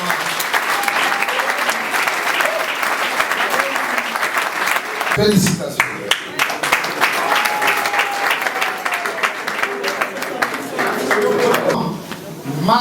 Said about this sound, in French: Applaudissez pour maman.